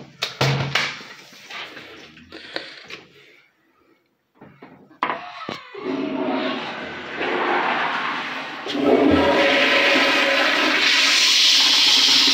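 A Kohler siphoning toilet flushes in a men's bank restroom, building from a few clunks and handle noises into a loud, steady rushing and gurgling of water that swells and holds near the listener.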